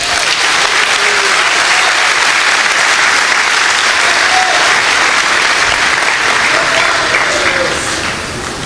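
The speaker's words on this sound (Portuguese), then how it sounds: "Você pode aplaudir a Jesus." A church congregation at an Assembly of God anniversary service in Guarulhos applauds loudly and continuously, a dense crowd clapping that holds steady before easing slightly at the end.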